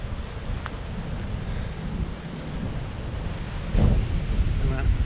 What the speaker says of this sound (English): as you can hear, it is blowing wind here